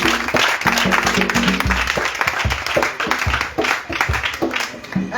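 Congregation clapping during a church worship gathering of praise and testimonies in Grand-Bassam, a steady dense patter of many hands running throughout, close and full, with voices mixed in underneath.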